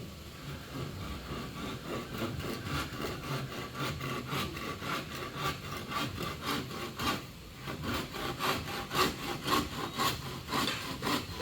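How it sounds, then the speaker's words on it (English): Bamboo being sawn to height at a building site, with steady rapid back-and-forth saw strokes running continuously, fairly close and moderately loud, with no talk. "they are starting to cut their bamboo to height"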